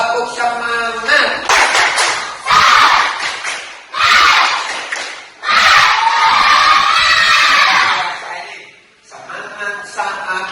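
Schoolchildren in a classroom shout a rhythmic clapping cheer together, loud bursts of many young voices and hand claps in repeated waves, with short pauses between.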